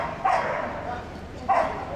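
A four-year-old border collie at the Crufts agility championship final barks twice, about a second apart, loud and close over the noise of the hall.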